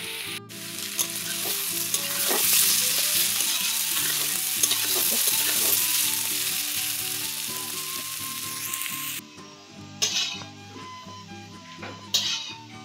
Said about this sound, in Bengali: এখন করছি আলু ভাজা